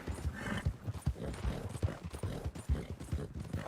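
Horse hooves clip-clopping in Red Dead Redemption 2, a steady, fairly close rhythm of hoofbeats at a moderate level with no talk.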